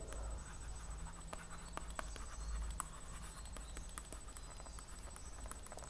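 A pen writes on paper while a maths problem about the area of circles is worked out, with quick, irregular scratchy ticks and strokes up close over a faint steady background hum.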